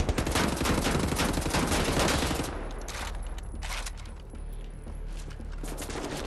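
Rapid automatic gunfire in Wolfenstein: The New Order on the Lunar Base level, a dense loud burst for the first two seconds, then lighter scattered shots and action noise continuing underneath.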